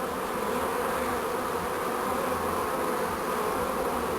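A honeybee swarm gathering into a hive box hums in a dense, steady buzz, close and continuous with no voices over it.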